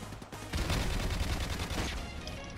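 Sustained automatic fire from a light machine gun in the shooter game Modern Warfare Remastered, a dense, loud burst of rapid rattling shots after a short lull, heard close and continuous for about two seconds.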